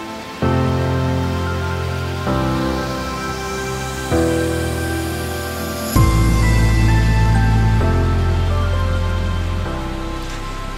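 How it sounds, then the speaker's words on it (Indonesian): Heavy rain pours down as a steady hiss under loud, sustained music chords, with no voices. "hujan deres nih"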